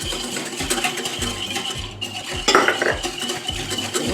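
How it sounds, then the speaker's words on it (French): Milk and sugar being whisked together in a bowl, with rhythmic clinks and scrapes of the whisk against the bowl repeating steadily at close range and no talk. "je mélange le lait avec le sucre"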